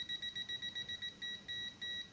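MT110 digital multimeter's non-contact voltage detector beeping as it passes a live wire, a steady run of about a dozen rapid high-pitched beeps, close and fairly quiet.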